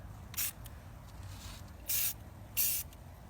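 A spray paint can hisses onto a piece of furniture in three short bursts with pauses between them. The spraying is near and clear over a quiet room background, with no talk.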